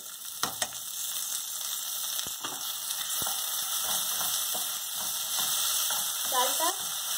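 Drained rice frying in oil in a pan, a steady close sizzle with scattered clicks and stirring scrapes, no one speaking.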